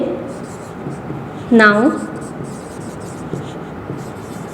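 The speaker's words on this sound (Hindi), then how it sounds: "तो यहाँ पे लिखेंगे" Pen strokes scratch on paper during a class 7 maths lesson, soft continuous writing rubs under a teacher's voice, with a brief spoken word partway through.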